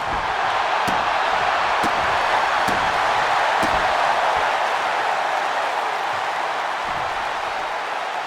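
Steady crowd roar fills a WWE 2K25 video game wrestling arena, loud and continuous throughout, with a few sharp thuds of impacts cutting through the constant din.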